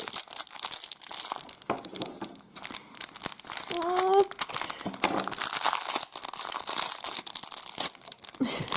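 Gift wrapping paper being crumpled and torn open, with crinkling and ripping bursts close by while a voice briefly speaks.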